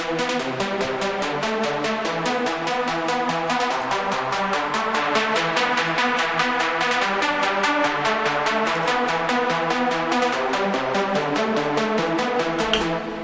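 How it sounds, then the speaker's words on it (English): Bass synth line with its filter automated by an LFO in a dark electro track, a steady stream of rapid, dense pulsing notes whose tone keeps opening and closing, loud and continuous throughout, no voices. "give this kind of sweeping up and down sound"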